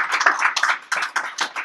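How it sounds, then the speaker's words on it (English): An audience at a lecture-series event applauds: a dense, steady run of many hand claps, fairly near and loud, with no talking over it. "Round of applause from everybody"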